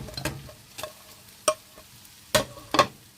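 Onions hitting a hot pan with vegetables and peas, a quiet background sizzle broken by a few sharp stirring clatters and bursts spaced unevenly, near and without talk.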